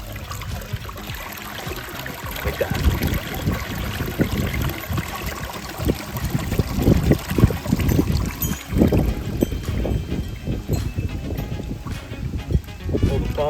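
Water from a backyard pond's biofalls rushes into the skimmer with close, churning splashes that swell and surge unevenly, while someone speaks briefly.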